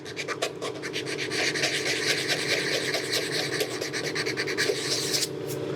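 Coarse 80-grit sandpaper worked by hand over rusty car body metal during paint prep, a steady dense rasping scratch of rapid back-and-forth strokes, loud and close, running continuously without talk.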